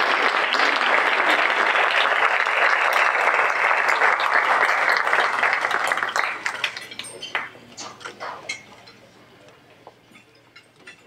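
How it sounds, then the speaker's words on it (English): Sustained loud applause from a dinner audience at a remembrance awards event, dense clapping that dwindles into scattered individual claps and clinks toward the end. "Another round of applause, please, for our"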